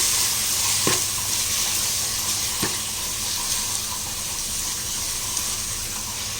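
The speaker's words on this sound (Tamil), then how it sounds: "இதுலேயும் கொஞ்சம் நல்லா தயிர் விட்டு வதக்கிக்கலாம்" Yogurt sautéing in a pan for a seeraga samba chicken dum biryani, giving a steady close sizzle with occasional spoon scrapes and stirring sounds, no voices.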